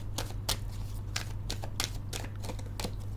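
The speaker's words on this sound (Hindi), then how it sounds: "मैं इनको शफल कर लेती हूँ" Tarot and angel cards being shuffled: a quick string of crisp flicks and riffling clicks, close and fairly clear over a low steady hum.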